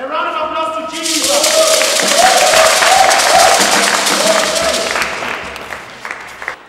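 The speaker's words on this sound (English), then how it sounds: "A round of applause to Jesus." Church congregation applauding together, a broad steady wash of clapping that starts after a second and holds loud before tapering, with a voice and sustained tones underneath.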